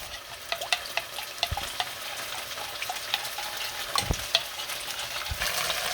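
Sardines fry with onion in a pan, a soft continuous sizzle broken by scattered clicks and scrapes of a utensil stirring, fairly quiet and close, with no talk.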